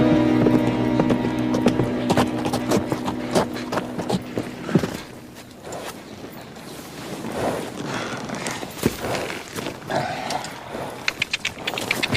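Horse hooves clip-clop at a walk with a steady, uneven rhythm, moderately close and fading in and out, with rustling and faint background activity in a Western setting.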